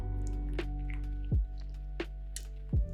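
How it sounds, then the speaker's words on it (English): Water trickles into the brew chamber of a Flair 58x espresso maker, making soft repeated drips and gurgles over a steady low hum from nearby equipment. "fill up our brew chamber until the water is entered into the well"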